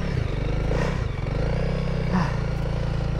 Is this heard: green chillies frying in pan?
no